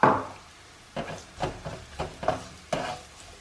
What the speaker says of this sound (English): Now we're only going to cook the onions till they're soft.